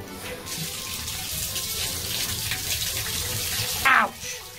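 A washroom tap runs steadily with a broad, hissing rush of water while something is refilled, ending with a brief, louder splash.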